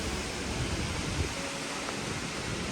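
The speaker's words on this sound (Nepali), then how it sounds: "पानीको पछिदा त एकदम धेरै आउँदो रहेछ।" Rushing water from a large waterfall in the hills of eastern Nepal, in cold winter conditions, gives a steady, dense, close roar that stays even and unbroken from start to end, with no voices.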